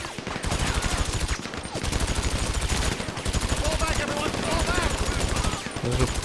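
Rapid automatic machine-gun fire in GTA Online, a dense continuous stream of loud, closely spaced shots in long bursts with brief gaps, mixed with game noise and a player talking over it.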